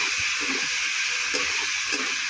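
Ground onion, ginger, garlic and cumin masala paste frying in a pan, a steady close sizzle with faint stirring scrapes, no voices.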